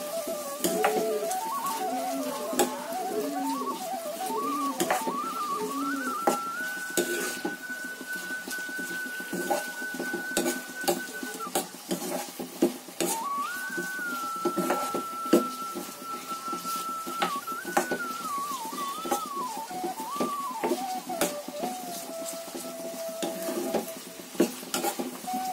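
Finely chopped onion fries in oil for a potato and pea curry, a steady sizzle under repeated scraping and clinking of a spoon stirring in the pan, while a melodic tone wavers faintly behind.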